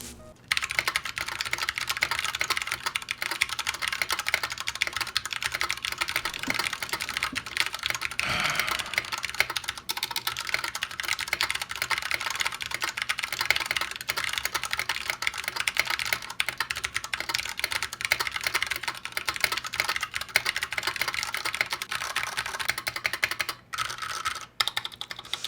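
Steady, fast typing on a custom mechanical computer keyboard, continuous clacking keystrokes close up with a brief pause near the end and no talk.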